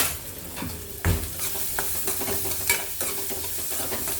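Onion and curry leaves sizzle and fry in hot oil, a steady close crackle with soft stirring scrapes and a louder clatter near the start, with no talking.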